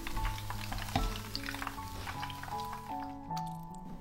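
Tofu pieces fry in hot oil with a continuous crackling sizzle and occasional pops, close and fairly loud throughout.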